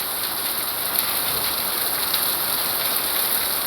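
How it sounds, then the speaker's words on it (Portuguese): Heavy rain pours down in a dense, steady hiss and patter on surrounding surfaces, loud and unbroken, with no voices. "Muita chuva."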